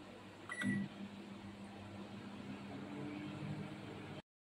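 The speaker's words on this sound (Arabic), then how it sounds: "حبيبي خلاص انا حطيتها في الميكرويف بتاعي، اظبطها على 4 دقايق كده" A microwave oven hums steadily while baking a flourless, oil-free, sugar-free mug cake, with a brief beep or click near the start and a constant drone until it cuts off abruptly.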